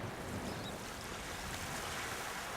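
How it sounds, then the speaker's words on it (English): In the Secret Files 2 adventure game, water is poured out of a bucket, making a continuous broadband rushing splash that stays steady and fairly loud for the whole stretch with no voices. "But I'll pour away some of this water first."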